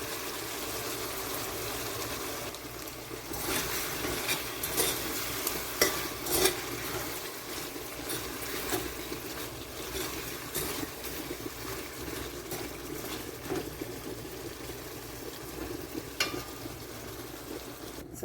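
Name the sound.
chicken cooking in water in pot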